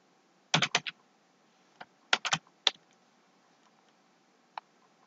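Captcha code typed on a computer keyboard: a quick cluster of keystrokes, a pause, then another burst and a few scattered single taps, close and clear with no talking.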